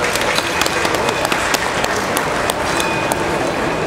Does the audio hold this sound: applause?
yes